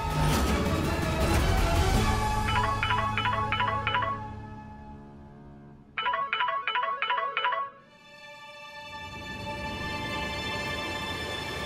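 A phone ringtone plays two short bursts of repeated electronic chimes, separated by a pause, over a quiet background hum.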